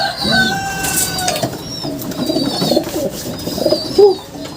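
Racing pigeons coo and call in a loft on basketing day before a 603 km sea-crossing race, a steady chorus of soft rolling coos and a few higher chirps close by, with a brief flutter near the end.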